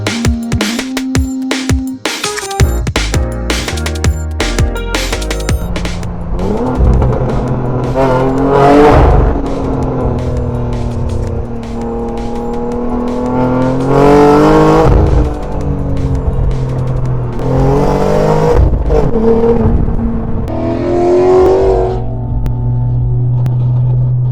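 A sports car starts up and revs, then drives off with rising and falling engine tones through several gear shifts, loud and close.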